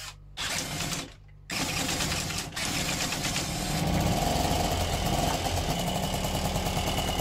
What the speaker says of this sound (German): Schmeißen wir einmal das Mofa an.